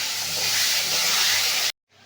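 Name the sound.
vegetables frying in oil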